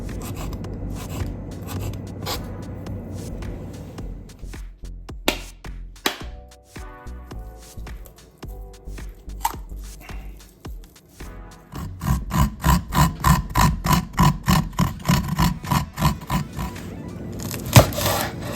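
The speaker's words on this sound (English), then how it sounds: "Cut the coconut." Coconut being cut with a knife for crab theeyal, irregular scraping and cracking strokes at first, then a quick run of evenly spaced rasping cuts later on, close and alone without talk.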